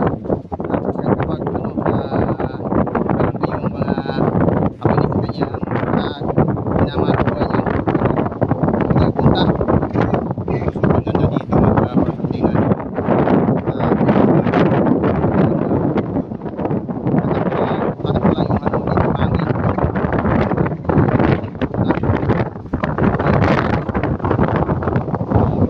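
Strong wind buffets continuously, roaring and gusting close up throughout with no pauses.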